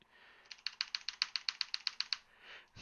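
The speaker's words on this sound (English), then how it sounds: "the chat can hear my clicky clacky keyboard" Fast burst of about a dozen crisp, evenly spaced key clicks from a clicky computer keyboard, close and fairly quiet, heard alone with no talking.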